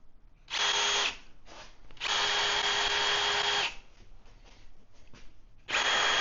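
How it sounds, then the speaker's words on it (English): A power drill drives screws into a homemade powder coating oven, three loud whirring bursts of about half a second, nearly two seconds and a longer final run, separated by quieter handling noise. "I'm just going to continue drilling and putting these screws in."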